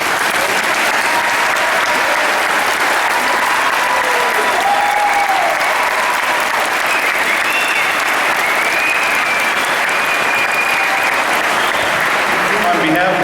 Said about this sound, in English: please rise so we can give you a round of applause to the parents of these graduates